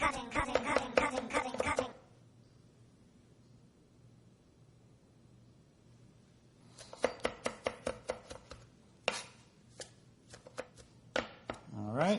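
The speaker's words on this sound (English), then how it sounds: "Cutting." A knife chops food on a cutting board while a salsa-style dish with lemon or lime juice is made, a fast run of sharp, close, evenly spaced knocks following brief talk and a quiet pause.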